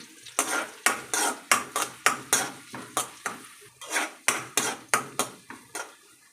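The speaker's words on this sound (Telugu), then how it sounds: "పచ్చిమిర్చి కూడా వేస్తున్నాను" Green chillies and onion go into hot oil with tempering spices, and a spoon stirs the pan in rapid, regular scrapes and knocks over a soft sizzle, close and fairly loud.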